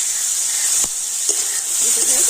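Chopped tomato with a little salt sizzles in a hot pan, a steady bright frying hiss with a couple of sharp spatter pops, close up, no talk.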